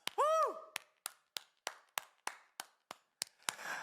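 Slow, evenly spaced single claps ring out in a reverberant church during an Easter service, about a dozen sharp strikes at a steady rhythm, preceded by a brief rising and falling tonal sweep near the start.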